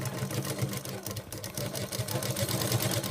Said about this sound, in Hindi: अब फिटिंग की सिलाई कैसे लगेगी मैं आपको मशीन पर दिखाता हूँ।